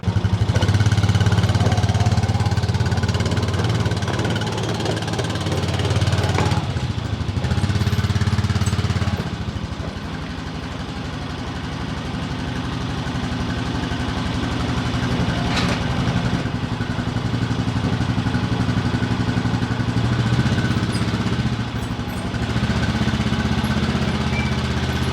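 A snowmobile engine runs steadily at close range as it is driven into a Logan Coach Horse Power trailer, a loud continuous rumble that dips briefly partway through and then settles into an even drone.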